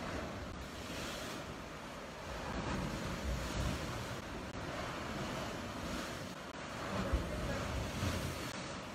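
Rough, agitated sea surf crashes continuously at close range on a winter coast, a broad loud roar with gusty wind buffeting the microphone throughout.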